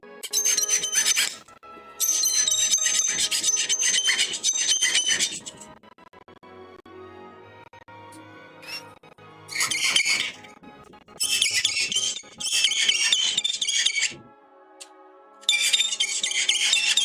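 Plastic parts from an MG Advanced Hazel model kit squeak sharply in several separate bursts, each a few seconds long, with quiet gaps between, close and loud with no talking.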